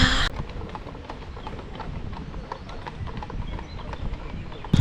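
Horses' hooves clip-clopping steadily on the mountain road to Morskie Oko in the Tatra Mountains near Zakopane, an even rhythmic clatter of several strikes per second, moderately close, with faint voices in the background.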